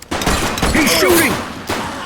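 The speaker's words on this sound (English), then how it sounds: "He's shooting!" Gunfire erupts during a high-speed police chase in The Precinct video game: a loud cluster of shots rings out with sharp cracks, and urgent raised voices carry over the burst.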